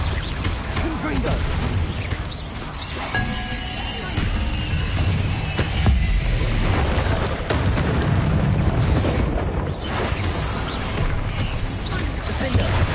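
Repeated Confringo spell blasts from Hogwarts Legacy, dense booming explosions and crackling impacts layered continuously over game music and effects, loud throughout with a voice speaking over it.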